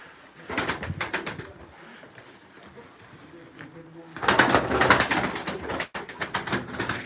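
Pigeons coo and flutter close by in repeated bursts, with a louder flurry of calls and wingbeats near the end, while someone talks over them.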